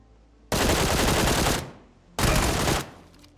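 Two loud, close bursts of rapid gunfire from the battle royale game PUBG, the first lasting about a second and the second shorter, each cutting off sharply with no talking over them.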